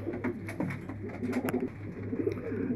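Domestic pigeons, a pair of young squabs kept by a breeder in Damietta, cooing softly at close range, with low repeated coos and a few faint flutters.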